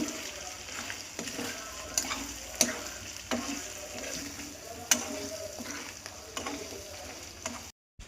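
Chicken fries in a pan with chili powder, salt, coriander powder and chicken masala, a low steady sizzle punctuated by intermittent sharp clinks and scrapes of stirring, ending abruptly.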